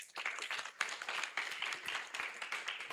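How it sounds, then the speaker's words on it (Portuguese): Enthusiastic clapping from a children's church school group closing a session, dense and energetic, sustained at an even level throughout without any talk over it. "Nós vamos encerrar com a salva de palmas."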